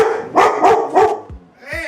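A dog barks three times in a quick, evenly spaced run at close range, then a couple of softer yips follow while a person begins to speak.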